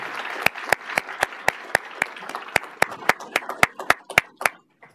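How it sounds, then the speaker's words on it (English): Scattered hand claps from a small lecture audience welcoming a speaker to an engineering ethics talk, sharp distinct claps spread across the clip that thin out toward the end. "Please let us welcome Dr. Finelli with a Boulder Buffs round of applause."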